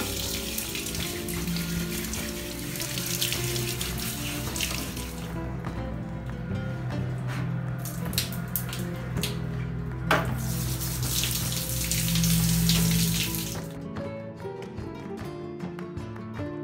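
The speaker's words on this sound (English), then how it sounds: "I take it to the bathroom and spray water." Water sprays steadily from a shower in a bathroom onto indoor plants, a close, continuous hissing rush that runs almost the whole time and then cuts off near the end, with no talking.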